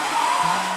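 An electric mixer whirs steadily at medium-high speed as it beats icing sugar and milk into a Biscoff cupcake frosting, a close, even motor drone with no pauses.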